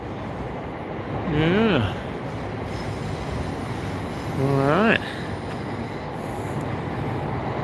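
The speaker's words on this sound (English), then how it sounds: "And you can hear the train going by," A train rolls past on the rails in a Tokyo street setting, a steady rumble broken by two loud rising wheel squeals, while a person briefly speaks over it.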